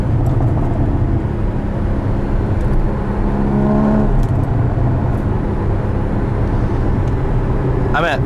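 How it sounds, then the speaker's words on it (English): A 2016 Porsche Boxster Spyder's engine heard from inside the cabin, a loud continuous drone that briefly rises in pitch around a downshift, with a blip near the end. "now you get to hear those downshifts"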